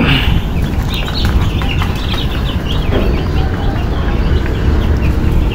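Chickens on rice-husk bedding in a brooding shed keep up dense, continuous clucking and chirping close by, with a loud, busy flock sound and no talk.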